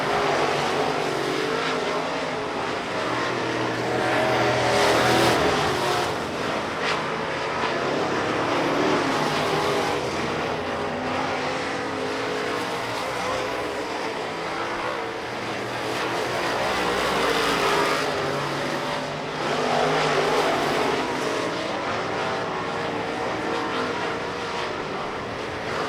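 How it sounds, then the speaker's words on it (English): Dirt track race cars circle a Manitoba speedway, a dense roar of engines rising and falling as the pack passes, with steady crowd-like background noise and no clear speech. "As Jerome Guillot, not sure what's going on with his car. Going slow in the infield there"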